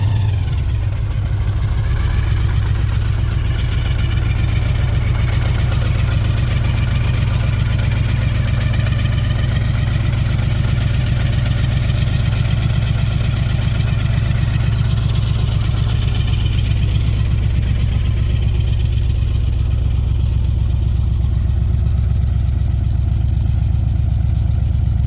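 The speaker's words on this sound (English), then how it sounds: "first let me fire it up. This car fires up so easy." A 1968 Chevrolet Chevelle with what sounds like a 350 V8 idles close by, a deep, steady rumble that holds even throughout with only slight swells, no voices over it.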